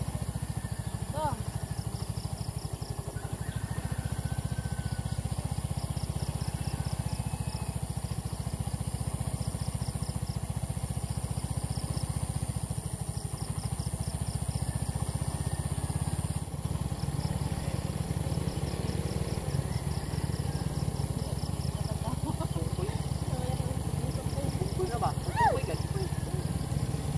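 A motorcycle engine runs steadily throughout a ride, a constant low drone with voices talking over it.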